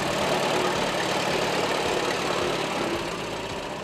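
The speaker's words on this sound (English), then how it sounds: "This is a 1919 Advance Rumley. The tractor is a two-cylinder kerosene" Old 1919 Advance Rumley two-cylinder kerosene tractor engine running steadily, a continuous broadband mechanical rumble with faint low knocking, heard alone and close.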